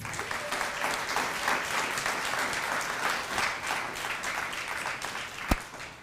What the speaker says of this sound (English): May you all give yourself a round of applause